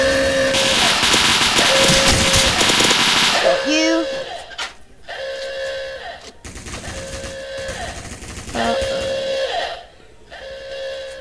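Minigun in the Roblox game Military Tycoon, a sustained loud buzzing stream of rapid fire that stops and restarts in repeated bursts, with other game sounds mixed in and a voice talking over parts of it.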